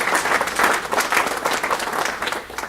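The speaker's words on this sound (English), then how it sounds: "So I'd like you to start by giving her a round of applause for that." A conference audience at the National Alliance of State Health CO-OPs meeting applauds the organizer, steady dense clapping from many hands filling the room, loud and continuous throughout.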